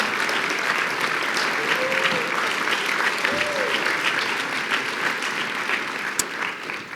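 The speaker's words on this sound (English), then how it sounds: "let's give a round of applause for Duke Mossman" Steady audience applause at a Sterling Scholar awards ceremony as an honoree stands, many hands clapping together with a few faint whoops rising above the crowd.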